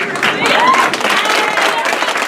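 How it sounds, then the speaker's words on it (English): A workshop crowd at a social enterprise and development conference claps and cheers loudly, with a noisy, energetic mix of applause and chatter close by. "stand up and give yourselves a round of applause"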